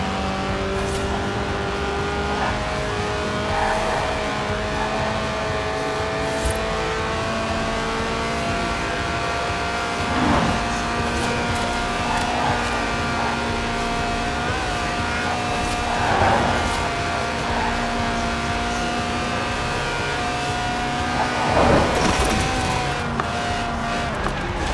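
A Lotus race car in Forza Horizon 4, under 700 kilos with a 190-horsepower 1.8-litre engine revving to 8,000 RPM, drones loudly and continuously, shifting pitch through gear changes, with occasional bursts of tyre squeal.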